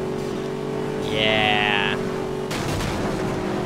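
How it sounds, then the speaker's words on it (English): Ford Mustang Boss 302 engine in the racing game Need for Speed: Most Wanted, a steady droning hum with a brief higher whine in the middle and a sharp change near the end, under a short spoken word. "Listen to the engine on this thing."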